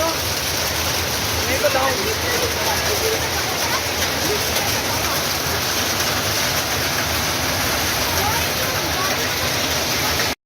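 Heavy rain pours steadily at Jageshwar Dham temple complex in the hills, a dense continuous hiss filling the whole clip, with a person speaking briefly over it.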